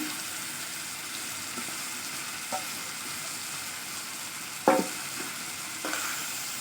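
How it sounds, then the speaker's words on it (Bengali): Rice stirred into fried spice paste in a pan for dried-fish rice: a steady close sizzle and frying hiss, with occasional scraping stir strokes and a louder clatter as grains are turned over. "এখন দিয়ে দিব চালগুলো।"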